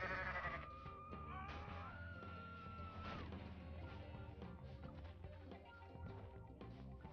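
Goat bleats and crashing impacts from a goat video game, sounding over a dense, continuous bed of game music and effects at steady loudness, with no clear pauses between sounds.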